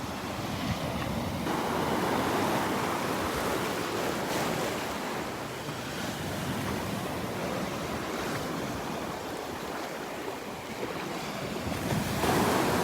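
Surf rolls onto the beach at Delnor-Wiggins during a walk, with continuous crashing waves and heavy wind buffeting the microphone, loud and close throughout with no talking.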